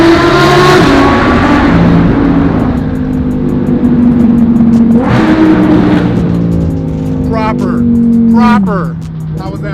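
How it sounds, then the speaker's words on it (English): Supercars including an Audi R8 rev hard on a tunnel run during a rally, with loud, reverberant engine roars rising and falling and sharp climbing revs near the end, while people talk over them. "Stop the revving. Too much revving."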